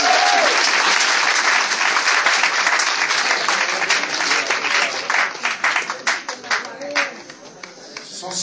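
A church congregation applauding to acclaim Jesus: a loud, dense wash of clapping sustained throughout, thinning into more distinct individual claps toward the end.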